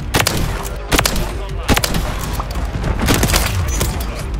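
Gunshots in the video game Modern Warfare 3 with the Ballista, loud sharp cracks at irregular intervals over a dense, noisy battle background of other fire and booms.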